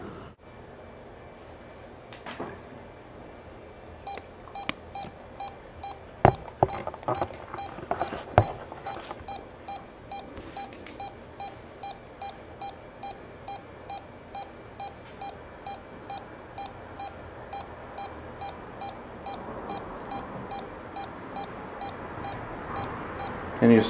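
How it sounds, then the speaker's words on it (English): Short electronic beeps repeat at a steady, quick pace for the whole stretch during a ghost hunt at the Pfeiffer House, fairly faint, with scattered clicks and knocks in the background. "Can you stop the beeping?"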